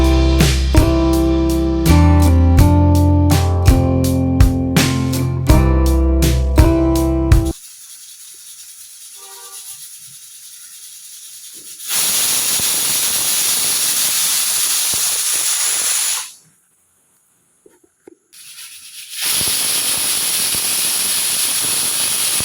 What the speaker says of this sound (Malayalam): അപ്പോൾ നമുക്ക് 2 വിസിൽ അടിക്കുന്നത് വരെ വെയിറ്റ് ചെയ്യാം.